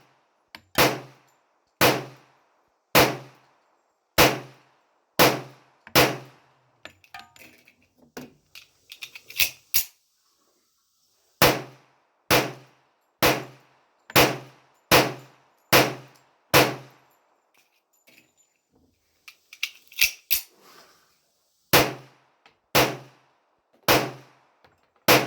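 A MAC 1911 MEUSOC pistol fires about twenty sharp, separate shots in two long strings with a steady rhythm, split by a pause filled with clicks and handling noise.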